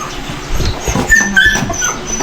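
A dog whimpers and yips nearby in short, thin, high whines mixed with a few rough bark-like bursts, set over outdoor background noise.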